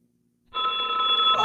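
A telephone bell in a school radio play. It starts abruptly after a short silence and keeps ringing as a bright, sustained trill, loud and close, with no voices over it.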